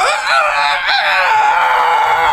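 A voice imitates a rooster crowing, a loud, strained, drawn-out cock-a-doodle-doo cry of rising and wavering pitch, close to the microphone.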